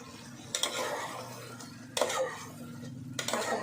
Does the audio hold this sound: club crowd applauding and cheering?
no